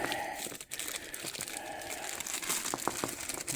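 New wheel hub bearing for an E30 BMW being unwrapped, a steady close crinkle and rustle of packaging with a few sharper crackles, fairly quiet and without talk.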